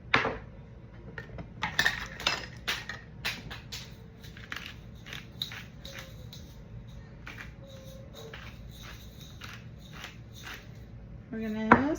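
Utensil scraping and clinking against a pan while stirring seasoned chicken and sweet corn taco filling, a run of irregular close metallic taps with a low background hum, louder clatter near the end.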